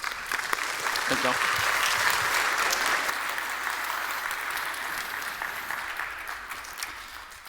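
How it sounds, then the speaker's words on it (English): An audience claps in a sustained round of applause at a camp gathering, loud and steady throughout, while a speaker's voice briefly comes through over the clapping. "Let's give them a round of applause."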